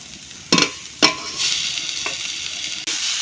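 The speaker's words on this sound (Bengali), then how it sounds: "এখন আমি নাড়াচাড়া করে এই পুরটা বানিয়ে নেব" Grated coconut and jaggery filling being stirred in a wok, with a few sharp scraping strokes over a steady soft sizzle, close and without talk.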